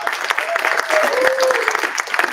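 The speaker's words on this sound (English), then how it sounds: "round of applause to Secretary Anisha Sharda" Hall applause at the UMass Amherst student government meeting for the secretary: a short, even burst of many hands clapping at close range, with faint voices mixed in.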